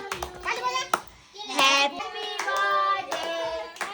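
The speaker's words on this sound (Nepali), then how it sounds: "ताली बजा सबै केक काट्नु ताली बजा त्यो ताली" Hand claps at a child's birthday cake cutting, several sharp close claps at uneven intervals amid excited children's voices and adult talk.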